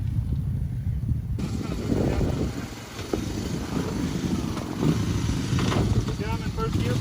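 An ATV engine runs steadily in first gear on rough trail terrain at an off-road park, a continuous near, rumbling drone while someone talks over it.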